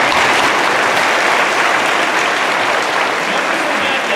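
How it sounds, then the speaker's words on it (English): Students and guests clap loudly and steadily during a school visit by First Lady Jill Biden and Education Secretary Miguel Cardona. The dense crowd applause holds at an even level throughout. "you deserve a round of applause also"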